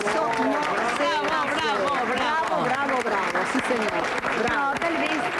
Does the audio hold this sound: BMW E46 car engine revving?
no